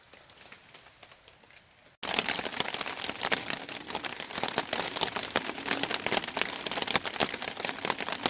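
Dense, steady patter of rain at a campsite sets in abruptly after a quiet opening and continues loudly to the end.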